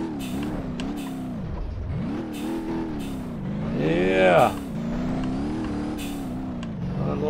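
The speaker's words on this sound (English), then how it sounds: "You can hear the blow-off valve just kicking." Rally car in BeamNG.Drive under heavy boost, engine droning and revving with a brief whooshing turbo blow-off burst midway, while someone talks over it.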